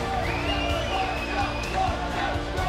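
Esports arena crowd in London at a Counter-Strike pro league final, a dense continuous roar of cheering and whooping heard throughout, with voices mixed into the din.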